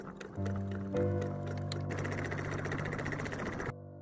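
A sewing machine runs a 2 mm stitch along a fabric strap for a DIY bucket bag, a steady mechanical whir with a faint ticking pulse that holds close and continuous for about three seconds and then stops abruptly.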